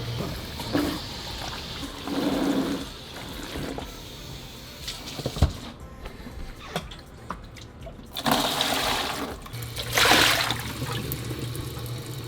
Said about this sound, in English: I'm just going to put a bunch of water into the main tank. We'll swish it around and give it a really good rinse out